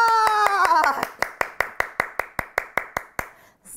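About a dozen sharp, evenly spaced claps ring out close by, following a brief musical tone at the start, like a small group clapping in unison for a coach at a seminar.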